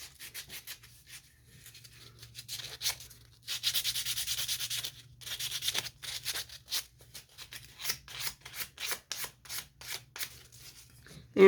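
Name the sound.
hand sanding a handmade item in the shop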